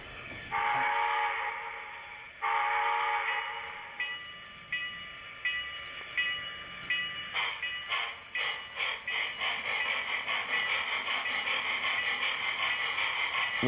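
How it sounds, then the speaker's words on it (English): An HO scale Southern Pacific cab forward model locomotive pulling a unit train of mobile gas cars through a Niles Canyon layout, sounding long horn blasts followed by rapid rhythmic chuffing that grows steadily, no voices. "What we have here is a Southern Pacific cab forward pulling a unit train of mobile gas cars"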